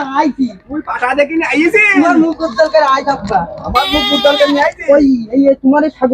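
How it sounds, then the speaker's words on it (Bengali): Goat bleating loudly and repeatedly up close, wavering cries running together over several seconds with short breaks between calls. "ছাগল"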